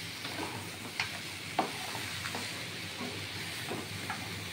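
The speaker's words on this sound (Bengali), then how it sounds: "এইবার কাটার সাথে এটা কষানো হবে।" Vetki fish bones fry in hot oil in a pan as they are sautéed, a soft, steady sizzle with a few scattered stirring clinks and scrapes, fairly quiet and close.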